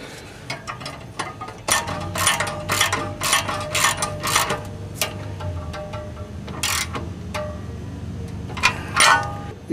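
Ratchet clicking and metallic tool mechanism sounds while tightening a flange nut on a car's catalytic converter, in repeated bursts of close, sharp clicks over low background noise.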